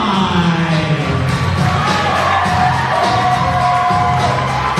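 Pre-show crowd at a PWR pro wrestling event cheering loudly and steadily, a dense roar of voices with whoops and shouts filling the whole stretch at constant volume.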